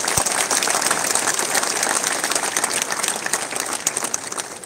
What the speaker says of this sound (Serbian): Pozdravimo ih svi jednim aplauzom.